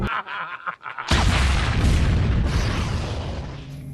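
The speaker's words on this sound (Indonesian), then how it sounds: "Nitro mengalir terkena sinar matahari, meledak dan menewaskan Malcolm serta Karim." A massive film explosion as a leaking nitro canister detonates on an icy mountain, erupting suddenly with a deep, loud roar that rumbles on for several seconds, faintly carrying a low hum.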